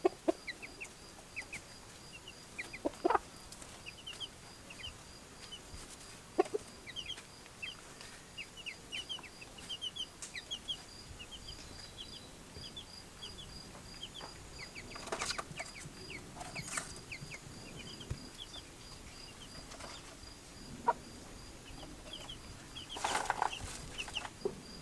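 Chickens cluck softly and intermittently in a backyard chicken run, with scattered short calls and occasional louder squawks over a quiet outdoor background, no one speaking.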